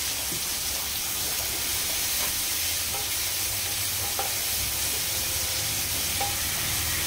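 Sliced onions frying with salt in a pan for bottle gourd curry give a dense, continuous close sizzle with faint stirring ticks underneath.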